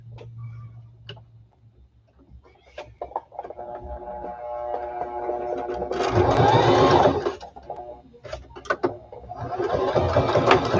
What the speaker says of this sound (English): So now we're going to stitch all the way around on the outside.